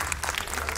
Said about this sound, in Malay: Tepukan untuk Fimi John.